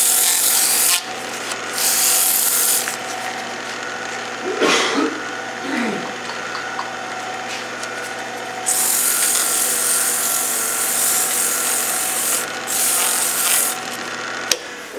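Coarse-grit sandpaper rubbing against a birdhouse ornament spinning on a wood lathe, a steady close raspy hiss running throughout with brief changes in pressure.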